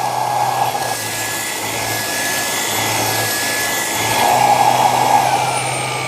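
An ECOVACS DEEBOT T30S vacuum runs with its motorized brush head, giving a loud, steady motor whine and airy suction roar with a low pulsing hum, rising briefly toward the end, with no talking.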